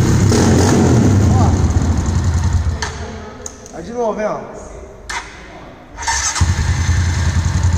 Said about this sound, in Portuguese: a moto bateu, pegou